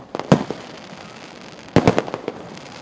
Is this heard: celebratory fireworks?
yes